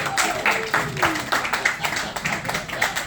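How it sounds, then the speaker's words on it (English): Live crowd at an opening-night drag comedy show in Provincetown breaks into scattered, rhythmic clapping, loud and fairly close, with a bit of background chatter underneath. "they'll clap for themselves"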